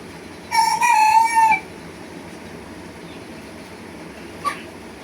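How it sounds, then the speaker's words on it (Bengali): A rooster crows once, loud and close, a single drawn-out call of about one second, followed by quiet background and a brief faint chirp near the end. "আমার মোরগ ডাকছে।"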